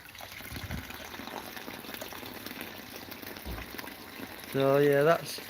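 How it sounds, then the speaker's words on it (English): Water from a hose pipe runs through a homemade spillway-style bowl filter at a koi pond, a continuous close rush and gurgle of flowing water that holds steady throughout, with a brief louder tonal burst near the end. "What I could do is just pop the hose pipe on and show you it working."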